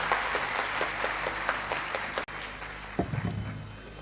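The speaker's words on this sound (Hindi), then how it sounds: "तो सभी लोग एक साथ भारी तालियों के साथ स्वागत कीजिए" A seminar audience applauds to welcome a guest, dense steady clapping from a large crowd that holds for several seconds before it thins out.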